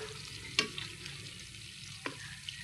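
Pork tenderloin salpikaw fries in butter in a pan with a quiet, steady sizzle, broken by a couple of sharp utensil clinks against the pan.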